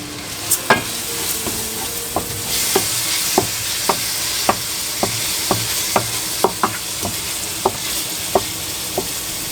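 Rice frying with onions, garlic and olive oil, stirred with a spoon that taps the pan in a steady rhythm of sharp clicks over a continuous close sizzle, with no voices.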